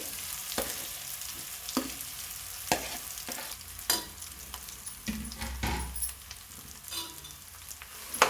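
Potatoes stirred in a frying pan with curry leaves make a continuous soft sizzle, broken by repeated scraping and clinking strokes of a spoon against the pan at an irregular pace.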